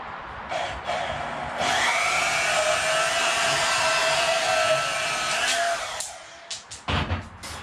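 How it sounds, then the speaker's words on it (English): A bandsaw cuts through a workpiece in a home garage, a steady loud whining buzz that holds for several seconds, then cuts off and is followed by a few short clattering knocks. "Cut it with a bandsaw."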